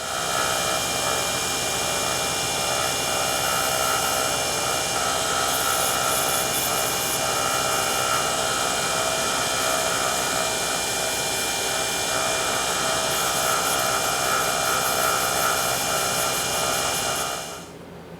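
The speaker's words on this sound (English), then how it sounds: "we're going to turn the speed up with this lathe and really give it a good buffing" Steady high whirring drone of a wood lathe spinning fast while a turned piece with a CA finish is buffed, loud and unbroken for about seventeen seconds with a faint rising hiss, then cutting off abruptly at the end.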